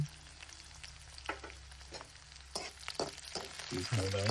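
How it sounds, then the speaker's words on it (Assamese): Dry red chillies, bay leaf, onion and panch phoron hit hot oil in a wok, giving a quiet sizzle with scattered sharp crackles and clinks of a stirring spoon, growing louder toward the end. "কেৰাহীত আকৌ অকণমান তেল দি দিলোঁ। পিছত এয়া শুকান জলকীয়া, তেজপাত, পিঁয়াজ, পাঁচফোৰণ"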